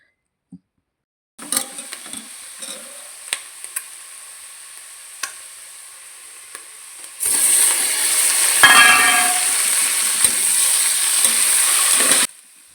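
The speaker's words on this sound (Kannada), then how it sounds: "ಇನ್ನೊಂದು ಸ್ವಲ್ಪ ಗೋಲ್ಡನ್ ಬ್ರೌನ್ ಕಲರ್ ಬರೋವರೆಗೂ ಫ್ರೈ ಮಾಡ್ಕೊಳ್ತಾ ಇದ್ದೀನಿ" Onions frying in oil until golden brown for egg biryani, quiet crackle with a few clinks at first, then a loud continuous hissing sizzle that swells midway and cuts off near the end.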